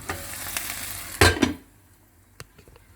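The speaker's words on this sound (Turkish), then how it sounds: "Düşük ateşte öyle pişiyor." Food cooking in a pan over low heat for kabak oturtma, a soft sizzle with a brief clatter of a utensil stirring or scraping the pan midway, close up.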